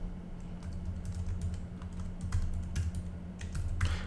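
Computer keyboard typing in quick, close bursts of light key clicks with short pauses, steady and unaccompanied by talk.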